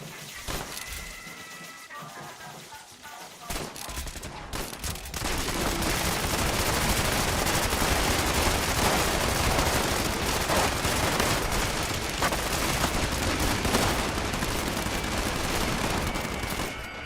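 Gunfire from a weapon in the video game Fallout 76, a dense, continuous barrage of rapid shots and crashing impacts that grows louder after a few seconds and keeps going, harsh and close, with no talking.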